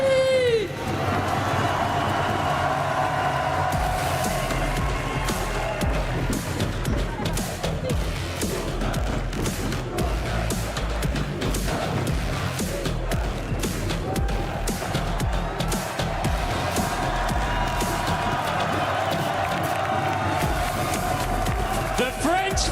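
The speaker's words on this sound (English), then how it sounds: "The crowd is on its feet" A large crowd at a Valorant esports watch party roars and cheers continuously, with clapping and loud babble filling the hall at a steady, dense level throughout.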